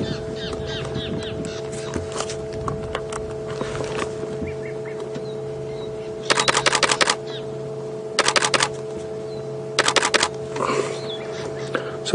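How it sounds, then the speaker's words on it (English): A camera shutter fires in rapid bursts of clicks, three or four distinct volleys close by, set against steady engine hum and bird calls during an evening safari drive at Djuma Game Reserve while a leopard is watched. "So that clicking is just my camera."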